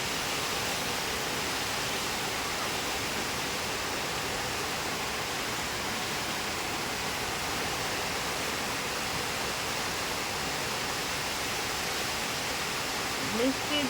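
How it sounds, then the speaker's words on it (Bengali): Heavy rain falls with wind, a dense, steady hiss that holds evenly for the whole stretch with no breaks or distinct drops. "বৃষ্টি পড়ে, টাপুর টুপুর"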